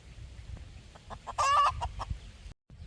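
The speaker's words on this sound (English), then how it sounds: "So these are the kinds of chickens we're looking for." Chickens cluck close by in short, uneven bursts, with one louder drawn-out squawk in the middle over a quiet outdoor background.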